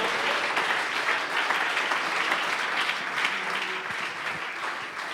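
A church congregation applauds in a continuous, even wash of many hands clapping at once, heard at a moderate distance and sustained throughout.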